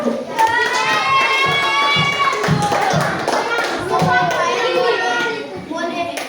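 Schoolchildren in a classroom clap their hands together in a brisk, loud burst of many overlapping claps, mixed with children's chatter and a teacher's voice.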